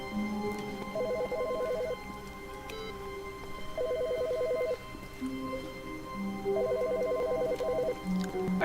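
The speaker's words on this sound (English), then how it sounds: "I hear a phone ringing." A phone ringtone chirps in three short warbling bursts spaced a few seconds apart, moderately loud over a steady background hum.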